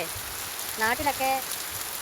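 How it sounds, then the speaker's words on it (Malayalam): Heavy rain falls as a dense, even hiss with no gaps, while a person speaks briefly over it. "ഇന്ന് ഭയങ്കര മഴ. കണ്ടേ, ഭയങ്കര മഴ."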